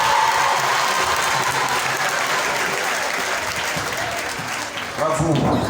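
Loud, sustained applause from a crowd at a prize ceremony honoring dictation and mathematics contest winners during a pilgrimage gathering, a thick continuous roar of clapping with faint voices near the end.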